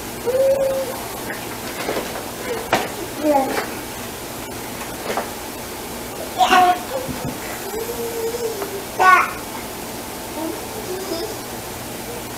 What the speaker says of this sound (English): Y'all can probably hear Autumn in the background